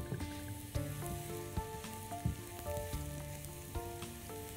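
Onions caramelizing in a pan for a mushroom sauce give a steady, soft sizzle and crackle of frying throughout, with occasional faint stirring knocks and no voices.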